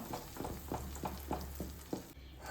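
Banana sizzles in hot ghee for banana halwa while a spoon stirs it in regular, rhythmic strokes, the frying hiss steady and close underneath.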